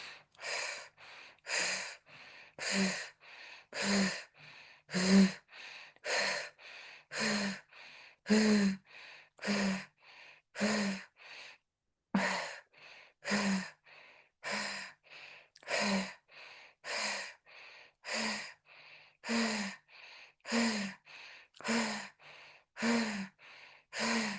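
Deep rhythmic breathing exercise, with about twenty strong, evenly spaced breaths, each a forceful airy inhale or exhale. The breathing is loud and close, with brief pauses between breaths and one longer gap midway.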